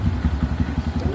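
Honda Grom motorcycle fitted with a 149cc big bore kit, running nearby with a steady, pulsing low engine note and rhythmic firing throb throughout.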